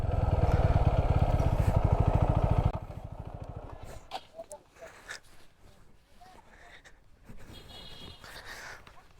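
A motorbike rumbles loudly over a rough, extreme hill road in a valley, engine steady for a few seconds before dropping away into quieter clatter and scattered people talking nearby.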